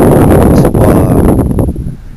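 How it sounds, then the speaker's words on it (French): Cool outdoor wind in Normandy on an overcast day, a steady broadband rush buffeting the microphone with faint rustling, easing off toward the end. "Et un vent assez frais quand même."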